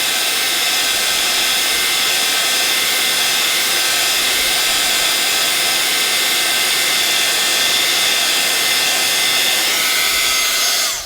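Embossing heat tool blowing hot air onto a layer of embossing powder, a loud, steady high-pitched whirring rush held close for the whole stretch, with no talking.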